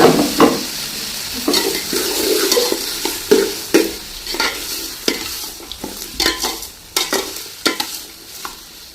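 Vegetables for sambar rice sizzle in a pan while a utensil stirs and scrapes them in a run of sharp, irregular strokes, close by and with no talking.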